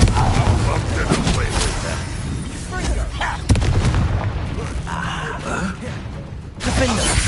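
Spell blasts and explosions crack and boom repeatedly in Hogwarts Legacy combat, loud and dense, mixed with shouted incantations and game effects.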